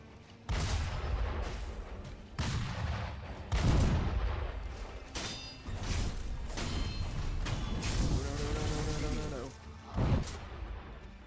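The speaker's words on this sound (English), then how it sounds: "he's got like a giant, rough blunderbuss. In the style of a cannon." A cannon-like giant blunderbuss fires in the video game Sekiro: Shadows Die Twice, with a series of heavy booming blasts and mechanical clatter spread across the moment, loud against game ambience.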